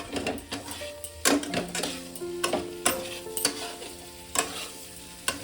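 A spoon scrapes and knocks around a pan of potato and fig curry with garam masala, giving irregular sharp clinks over a soft sizzling frying bed, close up and with no voices.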